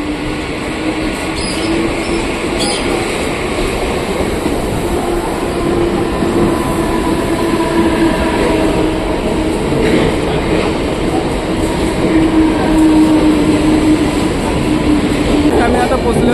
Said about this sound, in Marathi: ट्रेन आता आलेली आहे